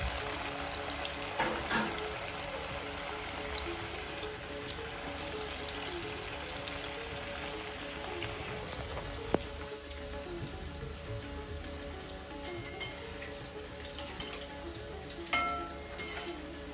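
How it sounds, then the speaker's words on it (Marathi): Batis, dough balls for Khandeshi dal bati, frying in hot oil, giving a steady close sizzle and crackle with occasional soft pops throughout. "आता आम्ही तेलामध्येच तळतोय."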